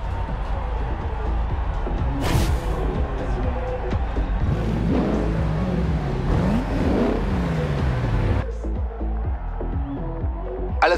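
Fast cars race in the Forza Horizon 2 video game, engines revving and whirring loudly with rising and falling pitch as vehicles accelerate, over a steady background bed before an abrupt drop near the end.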